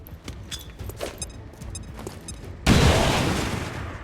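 A frag grenade in the XCOM 2 video game goes off in a sudden loud burst that decays into a long rumbling wash, after quieter clicks and game sounds.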